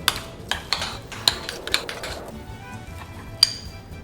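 Spoon or utensil clinking and scraping in a bowl while ricotta tortellini stuffing with salt, black pepper and olive oil is mixed, a run of close, light clinks over about two seconds, then near silence with one last tap.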